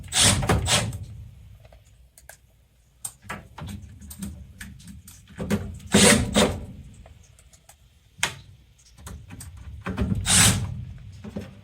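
Screws being driven back into the top panel of a Carrier furnace, heard as scattered clicks, scrapes and short metallic rattles in bursts with pauses between them, close and fairly loud.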